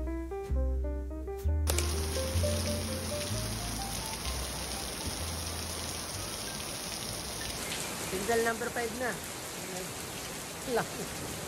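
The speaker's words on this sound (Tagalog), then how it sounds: "Lakas na ulan." Steady, heavy rainfall in Taiwan hisses throughout, with a voice speaking briefly at the start and scattered drips and splashes toward the end.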